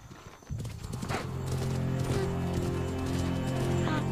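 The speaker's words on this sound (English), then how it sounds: "The cubs know something's up by the drumming of hooves." Horse hooves drum and clip-clop in a rapid, building rhythm across the African plains near a lion pride, starting abruptly and staying fairly loud and close, with a brief whinny-like call amid the pounding.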